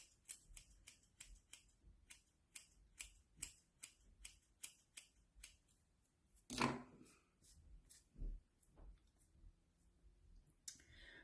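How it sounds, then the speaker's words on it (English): Scissors snip through a clump of hair bangs in a quick run of sharp, close clicks. A louder single snip stands out partway through, followed by a few scattered cuts. "see if I can cut them just a tiny bit shorter in this method here"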